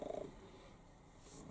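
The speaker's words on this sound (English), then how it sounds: "Can you hear him purring away?" A cat purrs softly and steadily up close in a quiet garden, a low continuous rumble with no voices.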